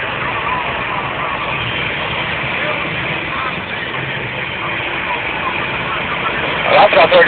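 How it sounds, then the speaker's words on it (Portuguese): Tractor engine running steadily while the tractor sits in the water of the Rio da Várzea, a continuous broad rumble with a brief louder burst near the end and voices nearby. "Olha lá o trator dentro d'água."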